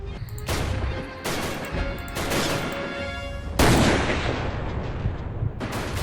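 Sniper rifle shots in Commandos Strike Force game combat, a series of loud booming blasts with long echoing decays, one especially heavy near the middle and another near the end, with battlefield rumble in between.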